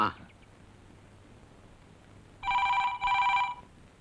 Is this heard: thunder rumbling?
no